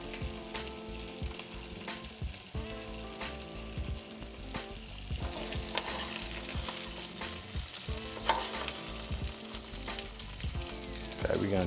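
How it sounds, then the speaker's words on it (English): Spinach and shrimp stuffed salmon sizzles loudly in hot butter in a tilted skillet, with the butter spooned over it and a continuous crackling fry punctuated by scrapes and clinks of a spoon against the pan. "I'm tilting my skillet and putting my hot butter on top"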